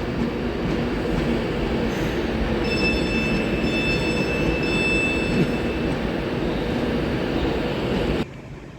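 Class 390 Pendolino electric train at Carlisle station, a loud steady rumble of a passing or idling train with faint high whines and squeals, ending abruptly near the close.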